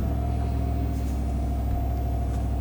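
Steady, loud low rumble of a 2025 Chevy Silverado 1500 LTZ engine idling just after startup, continuous and even throughout with no talking.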